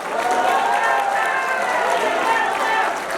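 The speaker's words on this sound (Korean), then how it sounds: "민영삼 후보에게 큰 박수 부탁드리겠습니다" Sustained applause and cheering from party members in a community hall auditorium for a candidate at a political education event, dense and steady throughout with voices mixed into the crowd noise.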